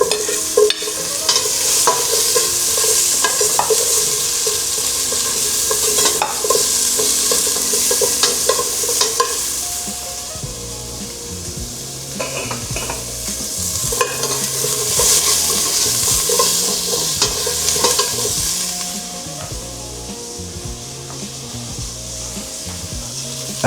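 Onion stir-fried in a pan with oil for a beef and vegetable stir fry, giving a steady sizzle with repeated scraping and stirring strokes of a utensil throughout, close and fairly loud with no talking.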